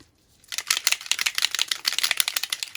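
Rapid hissing bursts of a distress ink spray bottle, many quick pumps in a steady rhythm after a short quiet start, close and fairly loud.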